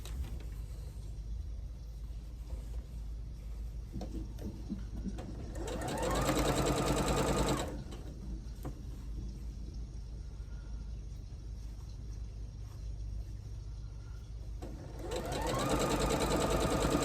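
A sewing machine stitching quilt blocks for a floral states block-of-the-month quilt, running in two steady loud bursts separated by a quieter stretch of faint background hum.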